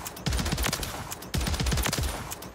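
Automatic weapon gunfire in the Warzone video game, two loud close bursts of rapid shots, each rattling for about a second, separated by a brief pause.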